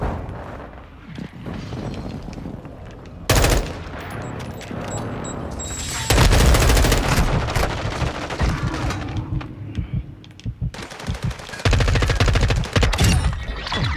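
Gunfire in the Modern Warfare II video game, bursts of loud rapid automatic fire and booming shots in dense stretches with short lulls between, a quiet voice briefly under it.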